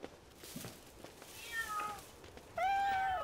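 A cat in a garden gives two faint meows, one thin and short and then a clearer, longer one, over a quiet background.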